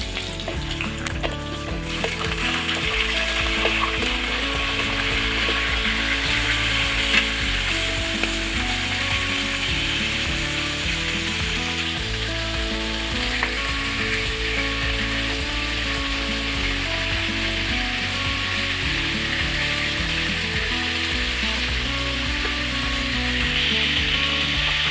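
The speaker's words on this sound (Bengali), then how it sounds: "মাছগুলো আগে ভেজে নিব" Marinated fish fries in hot oil in a pan, a dense, steady sizzle that runs unbroken and fairly loud throughout, with faint tonal background music underneath and no talking.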